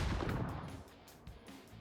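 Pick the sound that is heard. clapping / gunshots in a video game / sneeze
gunshots in a video game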